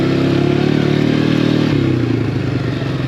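A Polaris Scrambler 500 H.O. ATV engine drones loud and close while riding, its steady rumble shifting pitch midway as the throttle changes, with clattering from the machine over rough ground.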